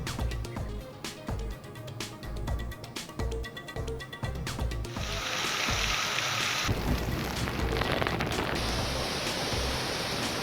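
Heavy rain falls with thunder over Chinchpur Dhage in Dharashiv, where storms flattened soybean and grape crops: a dense, steady roar of rain building in intensity, with sharp cracks and rumbles in the first half and no voices.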